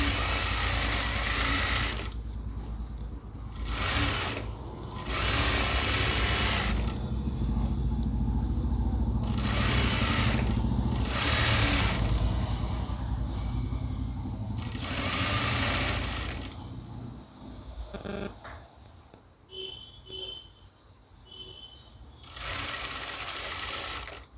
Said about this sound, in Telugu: ఇప్పుడు దీన్ని డబల్ స్టిచ్ చేసుకుందామండి